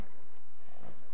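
A horse in the Minecraft video game gives a brief, soft snort and shuffle with faint hoof clops, one short burst, heard alone.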